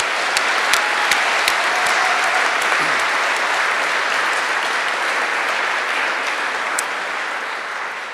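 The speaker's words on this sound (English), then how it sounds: "So a big round of applause for Tommy and the team." Awards-night audience applauding Tommy and his team, a dense, loud wash of clapping from a large crowd that holds steady for several seconds with a few sharper individual claps standing out.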